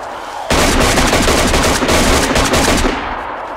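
Loud, close gunfire in the video game DayZ bursts in suddenly as a dense rapid volley of shots lasting about two and a half seconds, then cuts off into a short fading tail.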